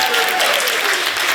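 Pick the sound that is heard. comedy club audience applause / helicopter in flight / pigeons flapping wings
comedy club audience applause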